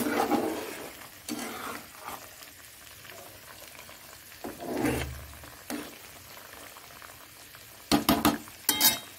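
Fish frying in a spicy curry in a pan, with a soft continuous sizzle and bubbling broken by occasional stirring and clattering, ending in a few sharp utensil knocks.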